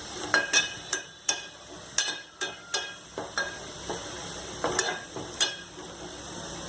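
Ground masala paste goes into a pan of frying Bombil (Bombay duck) curry, with a soft sizzle under a run of rhythmic scraping and clinking spoon strokes against the pan, heard close by and alone.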